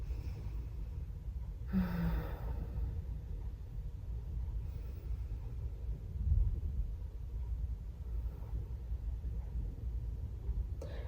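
Two slow, deep breaths taken while holding a calf and shoulder stretch, each a soft, close airy swell over a quiet low background hum, with no talking.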